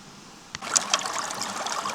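Water rushing fast and deep through a Water Warrior gold sluice, a steady splashing trickle that starts abruptly and keeps flowing, close and moderately loud.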